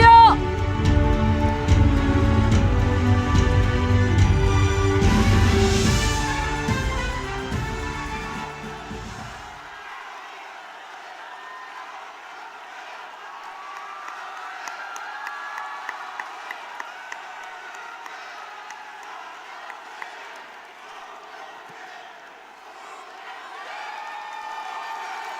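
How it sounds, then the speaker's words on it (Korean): At a Democratic Party joint campaign rally in Incheon, loud music plays for several seconds and then gives way to a wide crowd clapping and cheering, a steady rustling roar with scattered sharper claps further off. "여러분 뜨거운 박수로 맞이해 주십시오."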